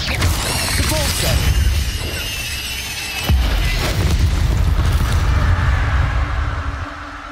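Depulso spell casts in Hogwarts Legacy: dense, loud magical whooshes and booming impacts with crashing debris, one sharp hit standing out midway, under continuous game sound.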